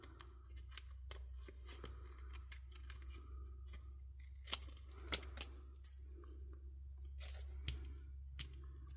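Scissors snip through a DTF can wrap sheet in quick, quiet cuts over a low steady hum, with one louder crisp snip partway through.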